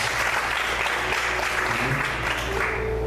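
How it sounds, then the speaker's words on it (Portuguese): A church congregation applauds steadily and loudly throughout, a dense continuous wash of clapping with a faint murmur of voices underneath. "Você pode aplaudir o Senhor nessa noite?"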